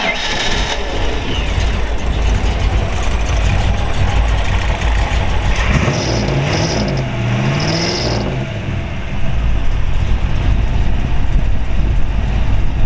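A 1934 Ford Woody Wagon street rod's Ford V8 cranks and catches, then settles into a steady, rumbling idle with a brief rise in revs, close by and loud throughout.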